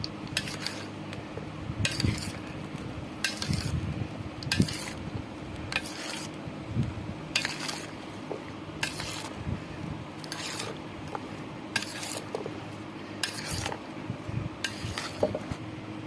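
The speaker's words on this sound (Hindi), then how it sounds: "और ये हमारी क्रीम है, क्रीम हमने ब्लेंड कर ली थी इसको, वो क्रीम हमने इसमें शामिल कर दी है। और इसको हम अच्छी तरह मिक्स कर लेंगे।" A spoon works blended cream into fruit chaat in a bowl, making repeated soft scraping and clinking strokes at a steady rhythm, close and fairly quiet, with no voices.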